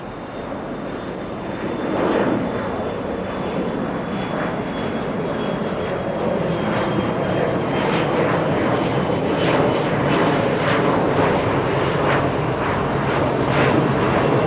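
A heavy airliner arrives at LAX, its jet engines roaring loud and steady overhead and swelling slightly as it passes, with wind buffeting the microphone.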